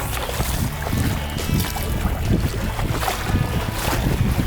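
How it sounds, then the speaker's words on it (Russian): Strong wind buffets the microphone with a constant roar over rough water noise during an Arctic kayak trip, with no voices. "Гребаный ветер."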